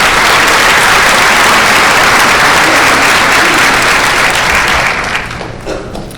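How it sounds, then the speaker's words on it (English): A large conference audience breaks into loud, sustained applause, a dense wash of clapping that holds steady before tapering off near the end. "And I think everybody deserves a round of applause for that."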